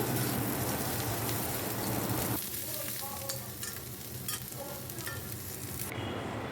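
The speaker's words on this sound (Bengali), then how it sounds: "পেঁয়াজটাও আমি লাল লাল করে একটু ভেজে নেব" Onions frying in hot oil in a pan, left over from fried potatoes, a steady close sizzle that runs throughout and softens slightly partway through.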